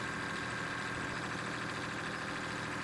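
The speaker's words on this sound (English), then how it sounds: "this engine 70 really does get up to speeds very fast" A fire truck engine in Farming Simulator 17 holds a steady mid-pitched drone, a continuous game engine hum throughout without a clear rise, no talk.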